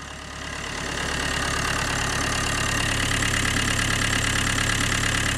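An Opel Corsa 1.2 TDI engine, smoking heavily and with a damaged flex pipe, starts up and settles into a loud, steady, slightly knocking idle, close by with no talk.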